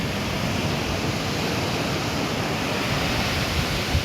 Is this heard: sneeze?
no